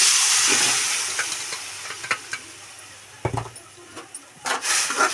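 Boiled mutton drops into hot oil in a pan for a garlic pepper fry, setting off a hissing sizzle that fades away, followed by scattered clinks and scrapes of stirring.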